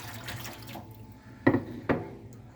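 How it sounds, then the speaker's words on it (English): Water is poured and dumped out of a ball python's tank, a splashing trickle followed by two sharper splashes near the end, heard close and fairly quiet without any talk. "We'll go ahead and dump this water out."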